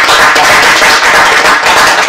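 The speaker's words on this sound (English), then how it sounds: "I think everybody here would applaud the efforts." Audience applause in a lecture hall, dense and steady, loud and close, with no voices over it.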